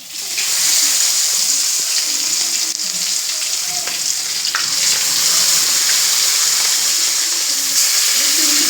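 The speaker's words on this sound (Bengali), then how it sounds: "তেলটা দেখো গরম হয়ে পুরো ধোয়া বেরোচ্ছে আমি একটু গ্যাসটা একটু কমিয়ে দিলাম সিমে দিয়ে দিলাম আর মাছগুলো আমি একটু ভেজে নেব" Pieces of chital fish fry in smoking-hot oil in a small wok over a gas flame turned low, making a loud, close, continuous sizzling roar with faint crackles running through it.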